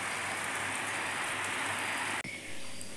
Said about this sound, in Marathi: हे बघा, पाऊसच पाऊस आहे आज।